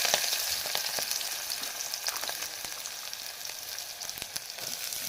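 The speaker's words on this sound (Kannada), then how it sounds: "ಮೆಣಸಿನ್ಕಾಯಿ ಫ್ರೈ ಆಗತ್ತವ ರೀ ಉಳ್ಳಾಗಡ್ಡೆ ಹಾಕೊಂಡು" Green chillies and onion sizzle and fry in hot oil in a pan, a steady close crackling hiss with occasional louder pops and spatters throughout, no talking.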